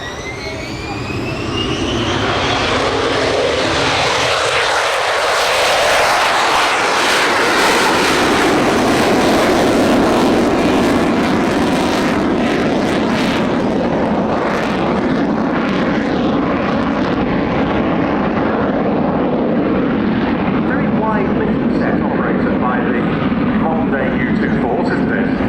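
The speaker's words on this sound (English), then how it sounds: "there you can see the chase car in pursuit as the U-2 rolls down the runway." A Lockheed U-2 Dragon Lady rolling down the runway at an airshow, its jet engine rising to a loud, sustained roar with a high whine sweeping upward at the start. The roar holds steady as it builds speed, with a chase car following.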